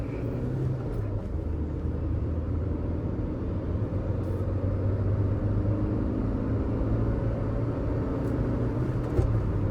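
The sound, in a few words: Kia Sonet car accelerating to show its power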